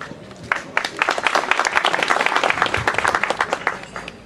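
Audience at an AK Party youth branch breakfast gathering claps enthusiastically, a dense burst of applause that holds steady for several seconds, close and lively.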